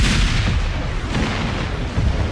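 Cannon fire from the Civil War battle film Gettysburg rumbles as a dense, continuous low roar of booms and blasts, loud and sustained with no clear gaps between shots.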